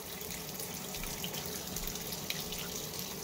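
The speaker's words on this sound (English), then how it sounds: "it is filling with warm water" Maytag Centennial commercial top-load washer filling its tub with warm water, a steady rushing hiss of inflowing water that runs continuously and fairly loud throughout.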